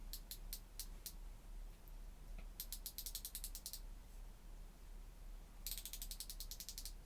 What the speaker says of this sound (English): Ratcheting.